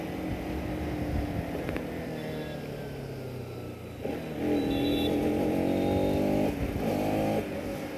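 A Bajaj Pulsar RS 200 motorcycle exhaust drones while riding, a steady engine note that rises and falls, then swells to a louder, sustained rev in the second half.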